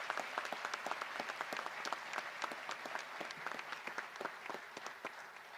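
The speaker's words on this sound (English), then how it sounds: "I would like the graduates to please join me in a round of applause for all the family members in attendance" Graduation audience at a high school ceremony applauding family members in attendance; steady, dense clapping from a large crowd, fairly distant and sustained throughout with no talk over it.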